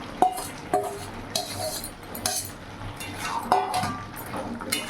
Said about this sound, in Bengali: এবার ভেজে রাখা বেগুনগুলো দিয়ে দেবো।